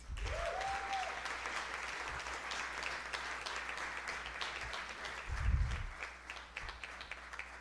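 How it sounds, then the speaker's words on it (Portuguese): Audience applause at a solemn tribute session marking ten years of the Ocupe Estelita movement, steady crowd clapping filling the room throughout, with a brief low thump near the end. "Vamos bater palmas, gente"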